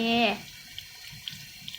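Tap water runs into a sink as a child rinses their mouth: a steady low wash of flowing water with a few faint drips and clicks, after a short voice at the start.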